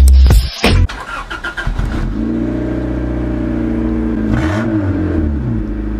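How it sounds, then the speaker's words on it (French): A car fitted with a modified sport exhaust line, starting cold with a sharp burst, then settling into a steady, loud, throaty idle with a brief rising blip of revs near the end. "Je modifie aussi la ligne pour qu'elle ait un son un peu plus sport et qu'elle fasse un bruit un peu plus rock"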